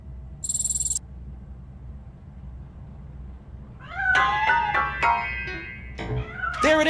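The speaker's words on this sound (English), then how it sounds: "That cat must be hiding inside." A cat meows in RoboCop: Rogue City, several clear, loud rising calls in quick succession near the end, preceded by a brief high electronic tone and a quiet hum of crickets or ambient insects.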